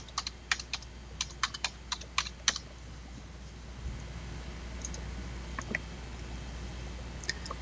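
A layer name being typed on a computer keyboard: a quick run of crisp key clicks at first, then a few sparse, quieter taps, all close and faint against a low room hum.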